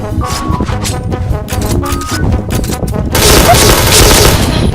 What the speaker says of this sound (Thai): คุณได้ยินเสียงปืนอ่ะ